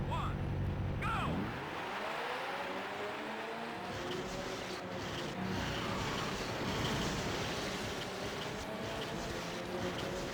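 Stock car engines in the racing game Destruction Derby 2 roar up together at the start of a race, climbing in pitch, then settle into a dense, continuous multi-car drone.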